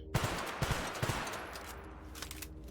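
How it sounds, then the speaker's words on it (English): A flintlock double-shot gun fires in The Outer Worlds, three quick paired blasts in a row, loud and close, followed by a fading mechanical tail. "put this flintlock in. Yep, it's a double shot."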